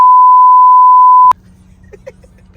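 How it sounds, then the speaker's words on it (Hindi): A loud, steady censor beep holds unbroken for about a second, then cuts off abruptly into faint background room noise. "मेरे को थोड़ी सी बीप ज्यादा करनी पड़ेगी, ओफो। सेंसरिंग ज्यादा चलेगी।"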